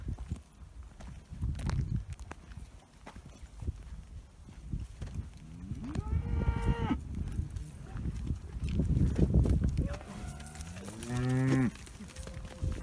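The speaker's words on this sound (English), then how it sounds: "This nearest cow here is a Maudsley Bright Beam, 4th lactation." Dairy cows low in a few drawn-out moos, two strong calls rising clearly over a steady background of shuffling and farm noise, with a fourth-lactation cow standing nearby.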